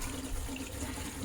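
Water runs steadily through a temporary hose feeding an iSpring reverse osmosis filter system, a soft, continuous hiss and gurgle with no voices.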